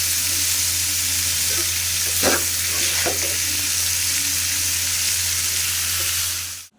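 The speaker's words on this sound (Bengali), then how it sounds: "এই যে দেখছেন আমি ভাইজা দিচ্ছি এটাকে একদম সুন্দরভাবে" Ingredients for a mashed bharta frying in a little oil, a loud, continuous close-up sizzle with a couple of stirring scrapes midway before the sound cuts off abruptly.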